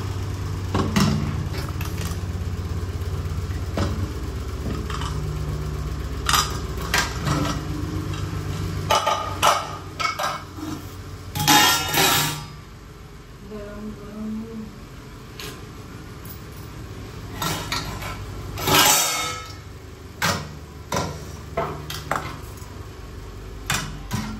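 A pressure cooker of rice and dal is opened in a home kitchen, with repeated metal clanks and clatters of lid and utensils in bursts over a low background hum.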